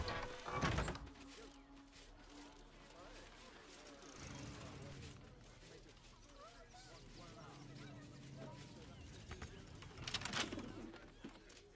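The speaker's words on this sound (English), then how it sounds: "Oh, I heard a pigeon." A pigeon coos softly in Baldur's Gate 3 over a quiet game ambience. Brief clatters sound near the start and the end.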